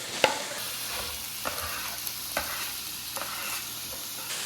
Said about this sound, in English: Now we can saute the vegetables just until they soften.